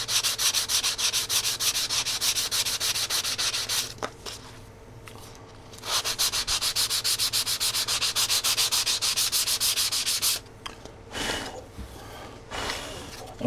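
Balsa wood being sanded by hand with sandpaper, close rhythmic rasping strokes in several bursts separated by brief pauses.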